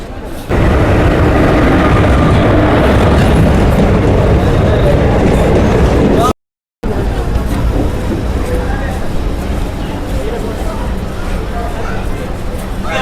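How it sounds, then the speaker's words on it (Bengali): A train pulls into a railway station platform on a route to Nabadwip, a loud close rumble of wheels and carriages with a brief cut partway through, then a lower steady rolling noise. "তো ফাইনালি আমাদের ট্রেন চলে এসেছে।"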